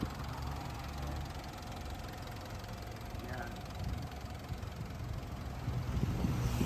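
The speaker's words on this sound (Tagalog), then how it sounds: "Muli po natin kilitisin yung tunog ng makina" A Mitsubishi Montero Sport GLS automatic SUV's diesel engine idles steadily with a low, rumbling chug, close by, with some wind noise in the background.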